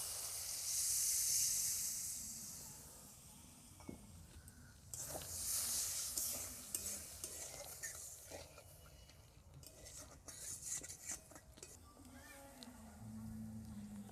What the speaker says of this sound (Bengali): মশলাটা আমার ভাজা হয়ে গেছে, এবার আমি নারকেলের দুধটা দিয়ে দিচ্ছি ওর মধ্যে।